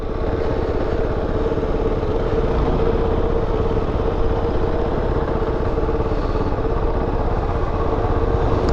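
KOVE 450 Rally motorcycle engine running steadily at low, even revs while being ridden on an enduro track, a continuous mid-pitched thrum with mechanical clatter, close and fairly loud throughout.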